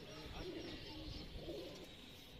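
A pair of teddy pigeons cooing softly, two low, rounded coos about a second apart over a faint, steady background.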